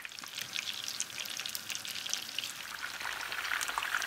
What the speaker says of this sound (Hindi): उसी ऑयल में फ्राई कर रही हूँ जिसमें मैंने पहले चिकन को फ्राई किया है